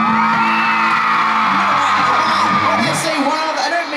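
A concert crowd of pop-rock fans screams and whoops at an outdoor show in Irvine, with loud, sustained cheering and shrill yells across the whole stretch under a voice speaking.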